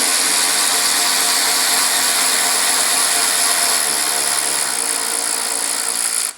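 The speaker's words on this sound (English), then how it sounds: "make sure we're on reverse, kind of cheating with a nice electric ratchet" An electric ratchet spins in reverse to back out long Torx screws on a 2026 Vespa GTS 310 scooter. A loud, close, continuous buzzing whir holds for about six seconds, then cuts off abruptly.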